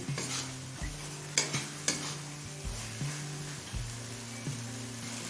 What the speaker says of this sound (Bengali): এবার মিডিয়াম ফ্লেমে মশলাটা ভালোভাবে কষিয়ে নেব